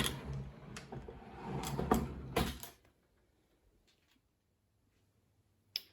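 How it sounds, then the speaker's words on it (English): A drawer in a home art supply storage space slides open with a run of rattling, scraping clatter over about three seconds, then quiet follows, broken by one small sharp knock near the end. "in this drawer here, if I just open that up"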